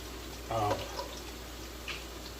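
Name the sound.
bacon grease poured over chips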